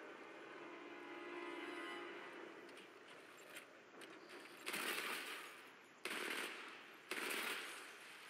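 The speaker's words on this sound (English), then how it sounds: "Fire SMG." Bursts of SMG gunfire from the Titanfall 2 single-player campaign ring out: a faint rattle early, then three loud, sharp bursts near the end, each cut off abruptly, with no talking.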